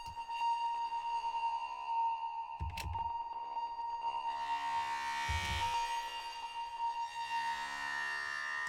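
Sustained electronic tones ring and drift through Ableton's Echo effect with high feedback and filtering, with two low thumps repeating and fading into a shimmering wash. No voices.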